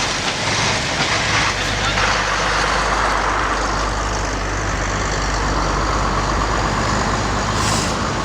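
A truck drives past on a dike reinforcement work site, its loud, continuous broadband rumble filling the whole stretch without a break.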